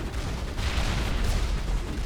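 A grenade blast in the Mass Effect video game, a dense roaring rumble of explosion and battle noise that stays loud and steady throughout, with no clear separate hits.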